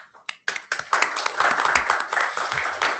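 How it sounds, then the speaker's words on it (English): A small group at a network configuration working-group meeting gives a brief round of applause, starting with a few scattered claps that build into a short, moderately loud patter of hands. "Small round of applause."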